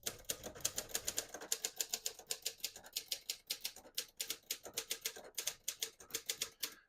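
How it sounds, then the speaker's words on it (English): A 1976 Hermes 3000 portable typewriter types out a sentence in a steady, rapid run of crisp key strikes. The clacks are close and evenly paced, with a few short pauses between bursts and no talking. "we're going to put that on red and type a sentence."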